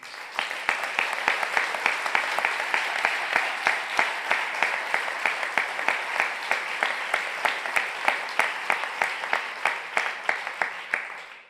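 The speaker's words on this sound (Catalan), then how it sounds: "Des d'aquí els vull demanar l'aplaudiment vostre perquè ells també haurien d'estar aquí." An audience at a film festival award ceremony breaks into sustained applause, dense clapping that keeps going from start to finish, with a loose rhythmic pulse running through it.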